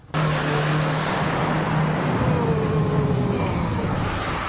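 Ford Ranger double cabin pickup with a camper box splashing through water on the slopes of Merapi, a continuous loud rushing wash of spray under a low engine drone.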